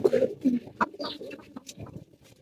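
Pigeons in a loft give soft, close cooing calls in short bursts, fading toward quieter rustling near the end.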